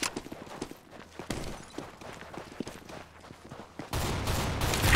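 A decoy grenade in Counter-Strike: Global Offensive sputters out fake gunfire as scattered, irregular bursts of pops at mid distance, then a loud, dense burst of noise takes over near the end.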